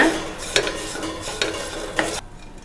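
Pepper idly being stirred and tossed in a hot pan, with a few spoon scrapes over a continuous soft sizzle, close up, ending abruptly after about two seconds.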